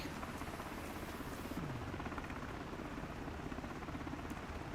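Miltech MH60T search and rescue helicopter in Microsoft Flight Simulator 2024, a steady, faint rotor and turbine drone running unbroken throughout.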